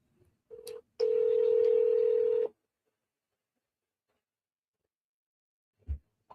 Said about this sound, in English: So let's go ahead and get him on the phone.